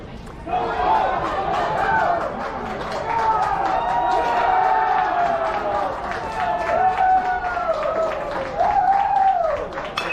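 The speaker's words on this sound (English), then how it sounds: "A lot of cheering from behind in the field." Crowd noise from spectators at a baseball game between Alabama All State and Hawaii, a steady wash of cheering and chatter filling the stands for about ten seconds, with a commentator talking over it.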